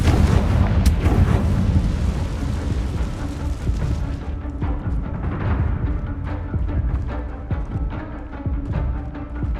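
In Hogwarts Legacy, the Confringo explosive spell sets off a blast: a loud, booming burst that rumbles on, with dense crackling and rolling debris-like noise continuing and slowly easing over several seconds.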